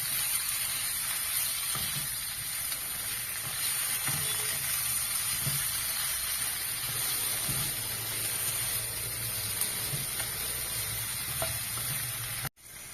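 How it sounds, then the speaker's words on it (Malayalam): Tomatoes and green chillies sautéing in hot spiced chilli oil for chicken biryani, a steady close sizzle with occasional soft stirring knocks, no voices. "അതിലേക്ക് തക്കാളി, പച്ചമുളകും ഇട്ട് വഴറ്റുക. എണ്ണ തെളിയണ വരെ വഴറ്റണം."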